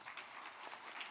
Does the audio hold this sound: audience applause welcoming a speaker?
yes